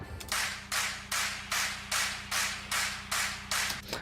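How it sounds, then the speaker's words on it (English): A crowd clap sample layered with a clap loop in an electronic music production, sharp bursts of clapping landing on a steady beat about twice per second over a low sustained synth tone. "I've layered it with one of my favorite samples ever, this little crowd clap"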